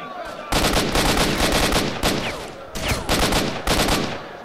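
Gunfire in the S.T.A.L.K.E.R. Shadow of Chernobyl video game, loud rapid bursts of shots in several volleys separated by brief gaps, close and dominant.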